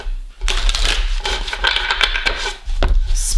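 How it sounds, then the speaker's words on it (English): Cards of an El Goliath Shadow tarot deck are shuffled by hand in a few quick riffling, shuffling bursts, close and fairly loud, with no one talking. "I'm going to give a couple shuffles."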